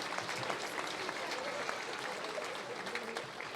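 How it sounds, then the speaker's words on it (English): A crowd gives a round of applause at a Tipperary GAA minor hurling All-Ireland homecoming. The clapping is steady and continuous, a dense wash from many hands at a moderate distance, with no speech over it. "I'd like to everybody give them a round of applause"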